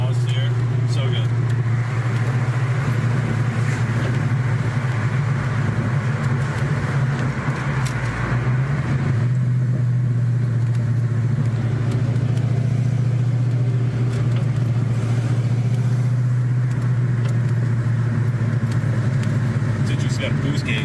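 A car's exhaust rumbles as it drives, a steady low drone that swells slightly at times and continues throughout, heard from inside the vehicle while people talk over it.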